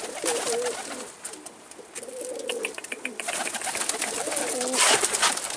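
Pigeons coo repeatedly over a busy outdoor background, with several overlapping low calls and faint chirps throughout.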